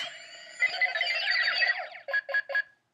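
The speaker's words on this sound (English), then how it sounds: "See, beeps twice, indicating that you inserted their card wrong or insert a wrong card" A Power Rangers Megaforce Gosei Morpher toy's electronic sound effect warbles and buzzes, then ends in a quick run of short, high beeps warning of a wrongly inserted card.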